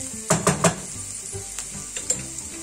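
Chopped meat and red peppers sizzling in a pot for a Turkish sauté, a steady close frying hiss broken by a few clattering stirs of a utensil against the pot, with no talk.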